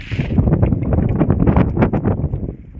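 Strong west wind buffeting the microphone at sea on a traditional fishing trip off Quezon, loud, rumbling and gusty throughout, with irregular thumping bursts and no clear voices.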